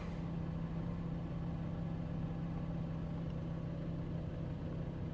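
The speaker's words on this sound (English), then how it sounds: "And the engine is running." Steady Citroën C4 1.6 petrol engine idling with a constant low hum, close by and even in level throughout, no voices.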